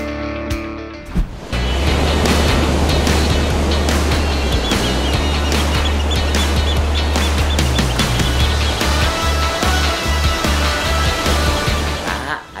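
Ocean waves wash steadily onto a beach at Gunungkidul, a loud, continuous roar of surf with crashing bursts, accompanied by a deep engine-like rumble and a few faint voices.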